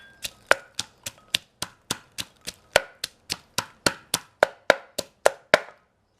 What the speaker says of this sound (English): we will add the chilies and pound together